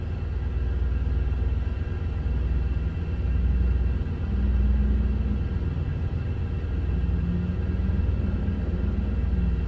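A truck carrying chickens rolls past on a road, a steady low rumble of engine and tyres that swells slightly in the middle and stays fairly constant, with no talking.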